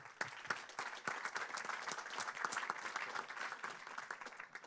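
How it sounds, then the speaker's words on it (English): An audience claps throughout a technology conference summit, with dense, continuous applause from many hands at moderate distance and no speech over it. "And yeah, we can clap."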